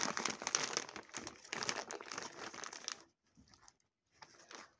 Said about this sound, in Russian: Значит, вот я открыла один пакет.